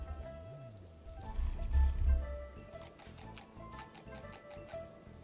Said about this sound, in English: Oh no, it's raining. It's raining.